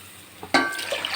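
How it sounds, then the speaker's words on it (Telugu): Water poured into rice in a pot while making brinjal pulao at home, a short close splash and trickle after a brief knock, with no talk. "ఇప్పుడైతే 3 గ్లాసెస్ వాటర్ అయితే వేసేసుకోవాలి"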